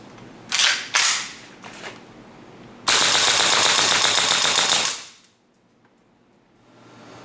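Airsoft WE AK74 rifle with a CNC steel trigger set, firing 0.2 g BBs on green gas in a rate-of-fire test: a few loud separate cracks, then a sustained rapid full-auto burst lasting about two seconds before cutting off.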